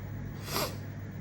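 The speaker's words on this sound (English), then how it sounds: "Sorry with all the sniffling." A single short, sharp sniffle-like snort of breath, close and fairly soft, heard alone in a quiet indoor room.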